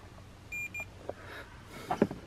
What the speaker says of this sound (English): Oh, it still beeps.